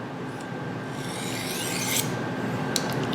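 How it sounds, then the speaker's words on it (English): A knife blade drawn along a sharpening steel gives a continuous, close rasping scrape. Strokes sweep in one after another with a few brighter metallic swishes toward the end. "This is sharpening now."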